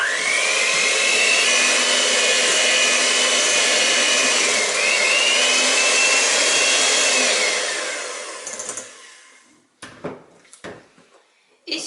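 An electric mixer whips the batter for a cookie cake with a loud, steady whine that shifts pitch slightly as it works, then stops. A few clicks and knocks follow the stop.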